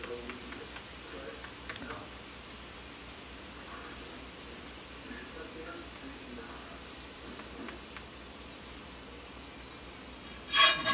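A scallion pancake frying in a pan gives a soft, steady sizzle that runs low and constant throughout, with a brief louder clatter right at the end.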